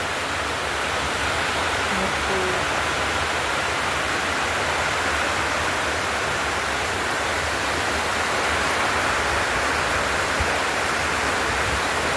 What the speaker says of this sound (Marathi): असा पाऊस